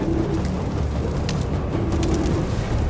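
Messenger pigeons coo steadily in a room, soft low-pitched calls repeating over a dense, rumbling background that fills the whole stretch.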